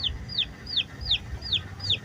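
Two dyed chicks, one green and one red, give five evenly spaced, high, downward-sliding peeps over a low rumbling background, close and fairly clear.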